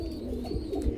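A red Rasgolla pigeon pair coos close by, a soft low throaty murmur running steadily through the moment with no other sounds.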